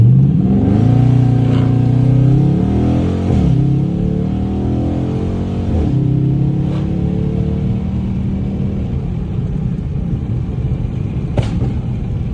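A flame-tuned Dodge Charger R/T accelerates hard from 0 to 60, its engine roaring loud and close with rising revs, rapid gear shifts and a deep rumble continuing to the end.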